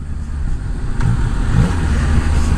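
A Yamaha Niken three-wheeled motorcycle engine revs steadily and loudly as the throttle opens, a close continuous mid-range drone with no talk.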